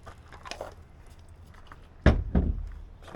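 Two short, sharp squirts of Liquid Wrench penetrating oil on the rusted lock of a Leer truck cap, fairly close and loud, over a quiet background.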